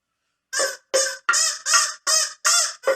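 A handheld duck call is blown in seven loud, close, honking quacks in a quick uneven rhythm after a brief silence.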